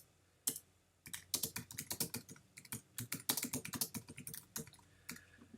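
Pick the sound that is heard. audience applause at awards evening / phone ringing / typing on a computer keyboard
typing on a computer keyboard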